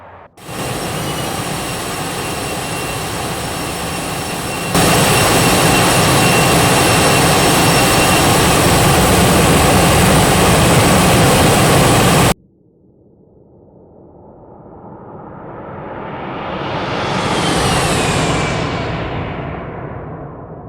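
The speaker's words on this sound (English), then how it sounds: "if you were actually outside the airplane with full power on, you would basically lose your hearing compared to the inside" Simulated Challenger 650 business jet engines at full power heard from outside the airplane: a loud, steady roar that jumps even louder partway through, cuts off abruptly, then a rising and falling whine swells and fades.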